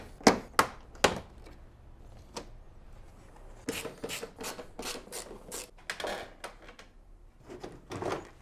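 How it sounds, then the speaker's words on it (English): Plastic clips and trim on a BMW E46 325i Touring straight-six snapping and clunking as a headlight is pried out, with three sharp close cracks at the start, then a quieter stretch and a run of rattling knocks and scrapes, no talk. "let's remove some headlights"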